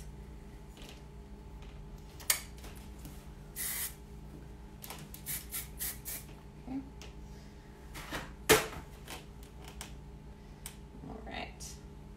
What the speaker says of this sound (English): So I'm going to give a bit of hairspray here just to piece out my sections